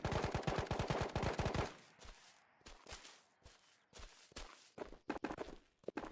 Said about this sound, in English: so that was a lot of gunfire